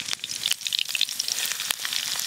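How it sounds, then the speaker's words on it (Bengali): Chopped green chilies and white sesame seeds frying in oil in a wok, a close, continuous crackling sizzle with bright pops throughout. "প্রথমে কড়াতে সাদা তেল দেব, কাঁচা লঙ্কা কুচি দেব, কাঁচা লঙ্কা দিয়ে দিয়েছি, ওপর দিয়ে সাদা তিল দেব।"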